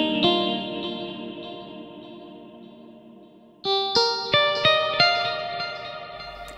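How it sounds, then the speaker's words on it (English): Sampled guitar notes run through an EvolverFX synth plugin with chorus and reverb, first a sustained chord fading out, then a bright series of plucked notes with echoing tails, clear and close with no voices. "I'm going to load a guitar sample in here."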